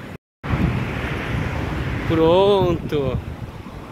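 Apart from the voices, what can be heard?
strong wind at a beach in Maceió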